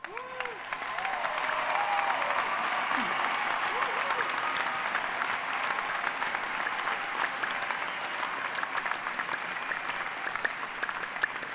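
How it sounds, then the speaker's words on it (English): Sustained applause from a large audience at a 2016 California State University, Fresno commencement ceremony, steady dense clapping holding for the full stretch with faint voices at the start. "Please stand and please give them a round of applause."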